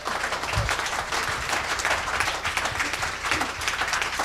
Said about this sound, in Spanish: ¿Le damos un aplauso a Jesús o no se lo damos?